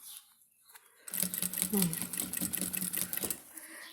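A sewing machine stitches a wallet and its lining at a half-foot setting, running in a steady, close, continuous whir for about two seconds after a quiet start.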